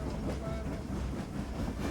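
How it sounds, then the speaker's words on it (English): A train rushes by with a steady, rumbling clatter and roar, close and continuous. "train speeding by"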